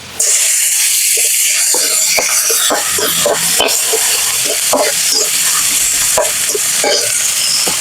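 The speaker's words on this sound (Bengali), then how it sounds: "মাছ ভাজার তেলে আমি পেঁয়াজগুলো দিয়ে দেবো" Loud, steady sizzling of onions frying in hot oil left from frying fish, with occasional stirring scrapes and crackles throughout.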